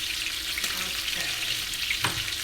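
Steak browning in a frying pan for steak pizzaiola, a steady hiss of frying with faint stirring clinks, moderately quiet and continuous with no talk.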